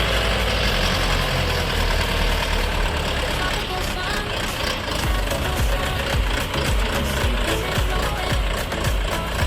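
A SIPM 404 mini tractor engine idles loudly and steadily, a continuous rumbling chug that never lets up for the whole stretch.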